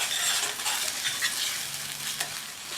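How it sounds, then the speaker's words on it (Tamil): Raw banana masala sautéing in oil in a pan, a steady soft sizzle with scraping stir strokes throughout, close and fairly quiet, no voices. "இப்போ இந்த மசாலாவுக்கு தேவையான அளவு உப்பு இந்த எண்ணெயிலே நல்லா வதக்கி விட்டுக்கணும்."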